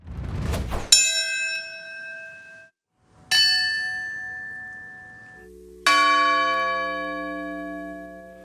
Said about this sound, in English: Bells marking today's solemn anniversary of the 9/11 terror attacks at the Pentagon, Shanksville, Pennsylvania, and Ground Zero in New York City